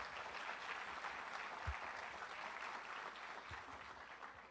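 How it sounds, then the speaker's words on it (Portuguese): A church congregation applauds the Lord Jesus during a sermon, a steady and even wash of clapping heard from a distance and fairly faint, with a couple of low thumps. "aplauda o Senhor Jesus"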